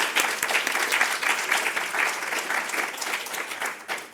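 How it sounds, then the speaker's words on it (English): An audience at an art show award ceremony claps steadily for several seconds, a dense patter of many hands at moderate volume with no voices over it. "So we'll have a nice round of applause for all our award winners."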